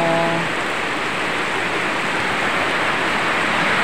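Rain falls outdoors during a home celebration, a steady, even hiss of drops with no clear breaks, close and moderately loud, with no voices.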